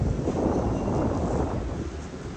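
Steady wind blows across a microphone beside the water in Istanbul, a continuous broadband rush with no voices.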